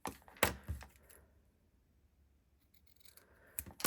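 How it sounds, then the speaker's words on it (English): Scissors snipping cloth ribbon while making a bow, a few sharp close cuts at the start, a quiet pause, then more snips at the end. "this one I'll snip this way"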